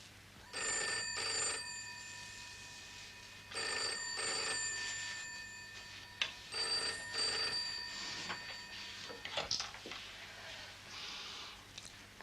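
An old-style telephone bell rings in repeated bursts, fairly loud and close, with short pauses between rings and some faint background noise.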